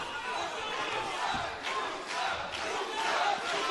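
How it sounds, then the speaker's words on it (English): An arena crowd roars and shouts throughout an MMA bout, a dense, loud wall of cheering with swells of yelling. "Crowd really trying to get behind Musa"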